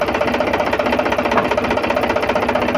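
Steady, loud Indo Farm 3035 tractor diesel engine chugging with a fast rhythmic knock during a gear shift, running continuously without a break and no voices.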